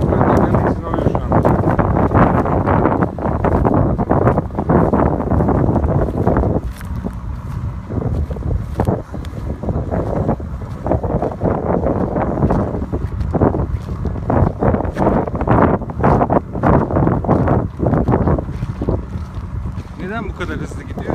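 A John Deere 5095, a 95 hp four-wheel-drive tractor, pulls a Pars plough across a field on the Söke plain. Its engine drones loudly and steadily throughout, with wind buffeting the microphone.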